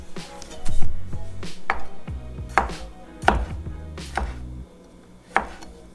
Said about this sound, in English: Just give them a quick little chop, nothing too big.